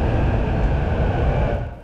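A JR Series 285 Sunrise Seto double-decker electric sleeper train, in service since 1998, rumbles along with a steady low roar and rail noise, close and loud, easing slightly at the end.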